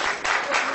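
An audience at a political event applauds in a dense, steady wash of clapping that swells briefly, heard up close.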